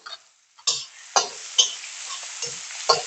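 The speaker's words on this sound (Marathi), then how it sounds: "सगळी मोहरी चांगली तडतडल्याशिवाय कधी कुठली भाजी असू दे चव चांगली येत नाही" Mustard seeds crackle and pop in hot oil while tempering for a Maharashtrian padwal (snake gourd) sabji, with sharp irregular pops over a steady low sizzle, close up and without talk.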